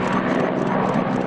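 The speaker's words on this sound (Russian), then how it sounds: "Три пары вертолетов и два одиночных вылетели на полигон." Military helicopters fly out in pairs and singles toward a training range on Sakhalin during an exercise, their engines and rotors making a loud, steady broadband roar close by.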